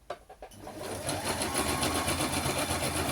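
Sewing machine stitching zigzag for free motion embroidery, with a rapid, steady mechanical chatter following a few short starts, loud and close with no voices.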